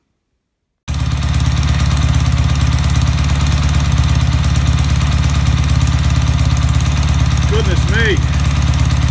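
A BSA 750 Lightning motorcycle engine fires up from cold after a brief silence and settles into a loud, steady, throbbing idle, while a faint voice is heard briefly near the end.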